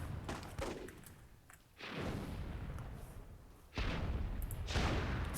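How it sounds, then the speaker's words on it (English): Video game gunfire in a three-on-three World War II gunfight in Myth II: Soulblighter: faint, scattered bursts of shots and booms, some rapid and some spaced out, from a distance. "We see a 3-on-3 gunfight. Soldiers are going down left and right here."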